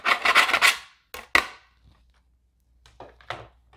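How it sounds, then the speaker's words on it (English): A metal cutting plate from a stamping cut-and-emboss machine scraped with a second plate to knock debris into a trash can: a close burst of rough rasping, two sharp scrapes, a pause, then a few lighter strokes. "I usually take my plate over to the trash can and I just scrape it with the other plate"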